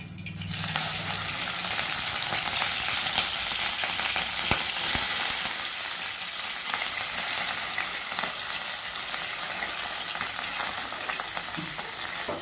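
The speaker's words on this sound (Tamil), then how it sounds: "இப்போ வந்து இந்த மட்டனை இதில் போட்டுக்கலாம்." Loud, steady sizzling of mutton frying in hot oil, with an initial burst as it hits the pan, continuing close and unbroken.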